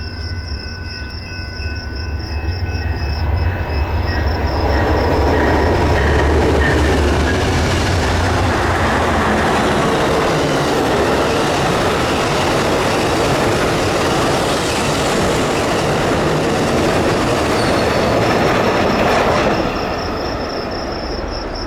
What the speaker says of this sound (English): the next train was our Amtrak 6, with 2 P-42s providing the power and 2 Chargers